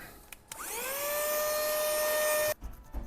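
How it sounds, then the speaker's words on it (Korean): A vacuum cleaner switches on after a couple of clicks and rises into a loud, steady whine as it sucks debris out of a broken airbrush, then cuts off abruptly, followed by faint handling knocks. "청소기로 또 한번 빨아주겠습니다."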